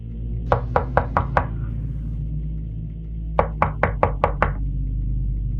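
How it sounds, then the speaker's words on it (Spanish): Two bursts of knuckles rapping on a door, five sharp knocks in a quick even rhythm, a pause, then six more, close and crisp over a low background hum. "decidieron tocar la puerta"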